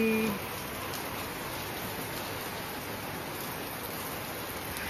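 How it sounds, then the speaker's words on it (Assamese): Heavy rain pours down in a steady, dense hiss that fills the whole stretch without a break, with no one talking over it. "কেনেকুৱা বৰষুণ বাপৰে"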